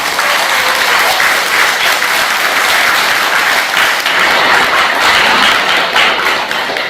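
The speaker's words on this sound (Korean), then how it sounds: "뜨거운 박수로 환영해 주시기 바랍니다" Sustained, loud applause from an audience welcoming a speaker at a Korean literary talk event, steady dense clapping throughout with no pauses.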